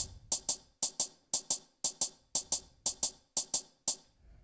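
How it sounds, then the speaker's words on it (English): A hi-hat plays a shuffle beat, with crisp, close ticks falling in swung pairs at an even, steady tempo, alone and without any voice. "And we want the hi-hat to have a shuffle feel."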